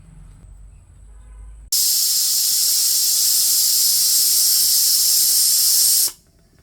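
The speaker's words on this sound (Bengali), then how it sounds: "প্রেসার কুকারে 5 থেকে 6টা সিটি দিলেই আর কি পুডিংটা হয়ে যায়" A pressure cooker cooking pudding lets out one loud, sustained steam whistle lasting about four seconds. It cuts off abruptly, with quiet kitchen noise before and after.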